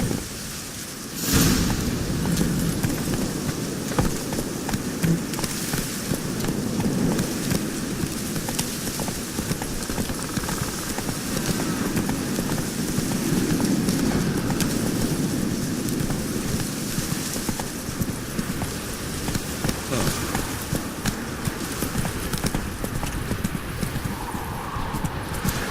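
Horse hoofbeats gallop steadily in The Witcher 3, a continuous rhythmic clip-clop running throughout at moderate volume, with rain and occasional whinnying in the background.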